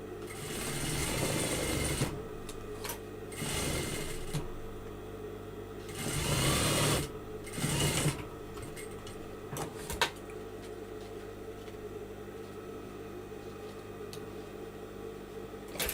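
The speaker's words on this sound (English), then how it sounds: "Then you just continue sewing." Sewing machine stitching a skirt, running in several bursts of steady whirring in the first half, then a quieter hum and light handling noises for the rest.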